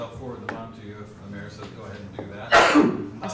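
During a city meeting, a single loud, close sneeze bursts out over ongoing speech near the end, briefly drowning out the talking.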